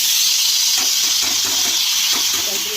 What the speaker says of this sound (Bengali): আর ওই তেলে জিরে, শুকনো লঙ্কা, তেজপাতা, ফোড়ন দিয়ে চাল কুমড়োটা দিয়ে দিই